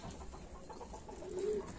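A racing pigeon coos softly with a low, rolling murmur that swells slightly near the end, set against a faint background hum.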